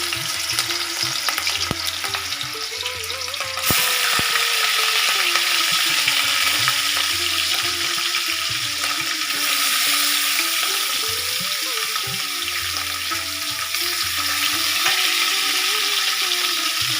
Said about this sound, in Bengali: ভাজা হয়ে গিয়েছে মাছ আমার, আমি তুলে ফেললাম।